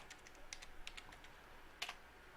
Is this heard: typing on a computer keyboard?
yes